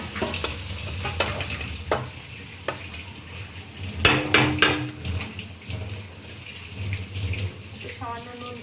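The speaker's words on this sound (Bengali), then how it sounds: "মশলাটা ভাজা ভাজা হচ্ছে তো, আলুটাও দেখবেন ভাজা ভাজা হয়ে যাবে।" Spice paste and potato pieces fry in a pan for chicken rezala, a steady close sizzle with scraping and stirring clatter, louder spoon strikes around the middle, and no voices.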